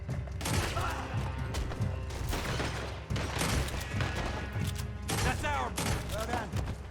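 Gunfire in Red Dead Redemption 2 during a dual-wielded shootout, repeated sharp shots in quick bursts over game noise and music, with a person talking at times.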